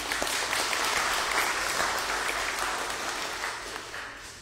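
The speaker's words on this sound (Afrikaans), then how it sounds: "Kom ons klap sommer hande vir dit." A church congregation at an Easter Sunday service claps hands together, a dense, sustained round of applause filling the room that fades slightly toward the end.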